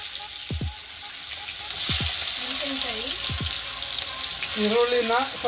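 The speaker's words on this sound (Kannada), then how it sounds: "ಇವಾಗ ಹಾಕ್ತಿದ್ದೀನಿ ಈರುಳ್ಳಿ." Onions tossed into hot oil for a home-cooked uppittu hiss and crackle in a busy, continuous sizzle, punctuated by a few low thumps and some faint background voices or tones.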